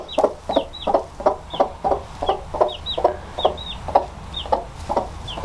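A mother hen clucks in a steady, regular rhythm close by, with a baby chick's high peeps mixed in between the clucks.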